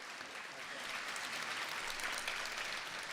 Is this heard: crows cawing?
no